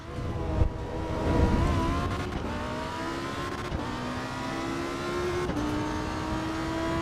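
A race car engine in Assetto Corsa EVO at the Nürburgring whines and revs steadily, its pitch climbing and then dropping with each gear shift, continuous and fairly loud.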